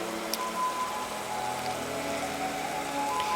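Rain falls steadily and softly outdoors as a faint, even patter, with a thin tone running underneath, for a few seconds and no voices.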